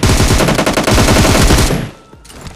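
Sustained automatic gunfire from an enemy player in PUBG Mobile, a loud rapid rattle of shots for nearly two seconds before cutting off into quieter game ambience.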